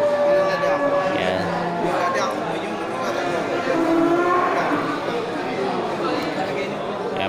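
Bali cattle moo at a busy livestock market, the lowing calls mixing with a constant murmur of crowd chatter and someone talking close by.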